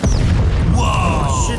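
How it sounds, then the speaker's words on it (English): A short, booming explosion from a fantasy TV series episode sounds loud and close, followed by a rising whoosh and ringing tones, with excited voices reacting over it. "That blew up."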